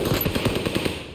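Rapid automatic gunfire from the video game Warzone Pacific rattles in a fast, steady burst of close, loud shots for just over a second, with no voices over it.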